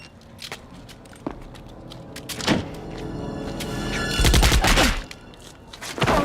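Gunfire from a gang shooting in San Francisco in a Doctor Who movie, several sharp, loud shots spaced irregularly apart with a heavier cluster of blasts near the middle.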